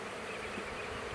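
A swarm of bees hums at a hive, a continuous, even buzzing drone that is close and moderately loud with no voices over it.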